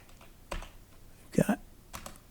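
Keys on a computer keyboard are pressed while values are entered, giving a few sparse, close clicks and taps in small clusters over quiet background.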